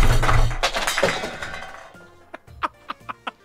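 Cans or small metal objects clink in a video game: a run of sharp, evenly spaced metallic taps in the second half, after a dense stretch of rattling, clattering game noise.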